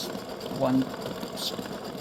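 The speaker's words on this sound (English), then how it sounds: "now it's going to do the satin stitching around the nose" An embroidery machine sews satin stitching on a freestanding-lace Easter egg gnome design, a steady close mechanical hum with a faint rhythmic chatter while a voice talks over it.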